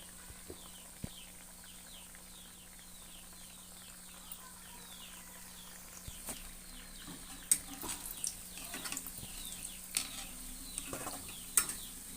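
Wheat flour biscuits frying in hot oil make a faint, steady bubbling sizzle with light scattered crackles, plus a few louder clicks and scrapes of a utensil toward the end.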